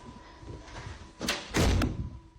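An apartment door slams twice in quick succession, a sharp thud followed by a louder, heavier bang, close by in an otherwise quiet room.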